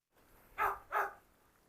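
Two sharp dog barks, close and fairly loud, in quick succession at feeding time in a kennel holding twelve Cane Corso dogs, with quiet background between them and no talking.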